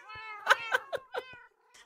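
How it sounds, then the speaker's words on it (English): Several cats meow in the Minecraft video game, a rapid overlapping run of whiny, harmonic mews at close range, five or six calls in quick succession over a low background and no talk. "Welcome to Sumio's illegal kitty mill"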